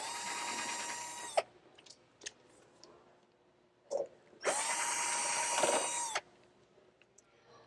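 Power tool driving out two screws from a solar above-ground pool light, two loud close whirring bursts of about a second and a half each, separated by quiet handling clicks.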